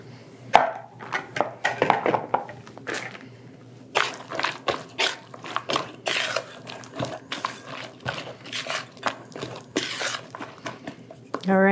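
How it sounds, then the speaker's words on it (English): A spoon stirring bread pudding batter with blueberries in a bowl, giving soft wet squishes and light scraping clinks against the side in irregular bursts, mixed with occasional talking. "we're gonna stir this together with a spoon"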